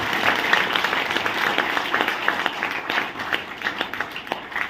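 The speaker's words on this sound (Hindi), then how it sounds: "एक बार जोरदार तालियां होनी चाहिए।" Audience in a hall breaks into loud, sustained applause, many hands clapping densely and steadily throughout without a break.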